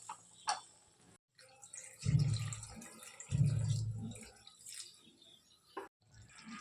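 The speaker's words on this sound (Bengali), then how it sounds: "এখন আমি জল দিয়ে দেবো" Water poured into a pan of simmering egg curry, two low gushing pours of a couple of seconds each, close and moderately loud, with lighter drips and kitchen clatter before and after.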